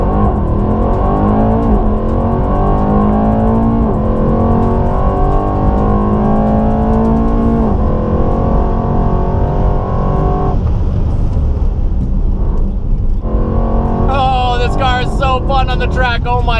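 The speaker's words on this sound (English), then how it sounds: "let's see how fast this thing can do 0 to 60, shall we?" A $250,000 McLaren supercar does a hard launch from standstill in track mode, its engine loud and close as revs climb through several rising gear pulls with brief shift breaks, then a sharp high-pitched whine near the end.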